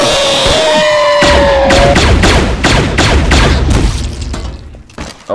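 Rapid bursts of gunfire in Garry's Mod on a scary map, a fast volley of loud sharp shots after a tonal whine, fading toward the end with a final crack.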